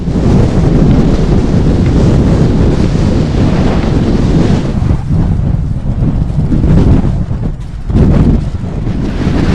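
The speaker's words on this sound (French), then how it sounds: "ça fait 4 jours que je lutte contre le vent de face" A strong Saharan headwind in Mauritania buffets the microphone while bikepacking, a loud, continuous roar with gusty surges and a brief lull before rising again.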